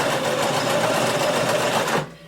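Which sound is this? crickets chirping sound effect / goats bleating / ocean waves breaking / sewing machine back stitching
sewing machine back stitching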